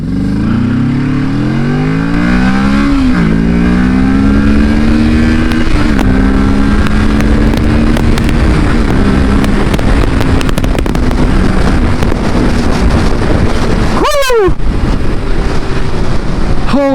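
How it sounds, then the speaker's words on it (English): A motorcycle engine revs hard up a sloping road, pitch climbing and dropping with each gear shift in repeated sweeps, loud and close throughout, with a sharp burst near the end. "this bike always amazes me at every single gear shift. Every time you rev the throttle, it asks for more."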